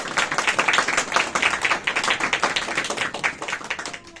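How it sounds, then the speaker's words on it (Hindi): A church congregation claps together in a dense, steady burst of many hands, loud and close, fading slightly toward the end. "यस, ताली बजाएं खुदावंद यीशु मसीह के जलाल के लिए"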